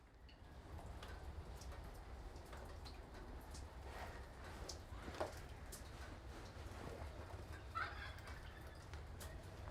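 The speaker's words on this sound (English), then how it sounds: "He's gobbling." A turkey tom gobbles with rough, rattling calls at around 5 and 8 seconds over a steady outdoor low rumble, moderately distant and without talk.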